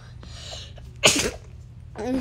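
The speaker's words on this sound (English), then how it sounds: "sorry, I sneezed" A single sharp, close sneeze bursting out between quiet moments, with a voice speaking briefly afterward.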